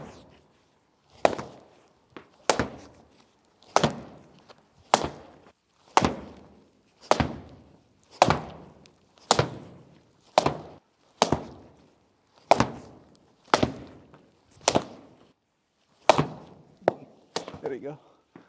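Cricket bat striking a quick run of thrown balls during batting practice, about fourteen sharp wooden cracks at an even, steady pace, each clear and close with brief rustle between hits.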